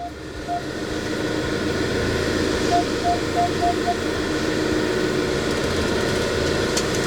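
A 2025 Swift motorhome reversing out of a building, its engine giving a steady low rumble close by, with a repeating reversing beep early on and a voice talking over it.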